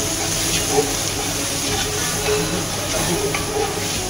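Arabian spices and pepper are stirred in a frying pot for chicken kabsa, giving a steady sizzle and hiss with soft scraping and stirring sounds close by; a voice speaks briefly.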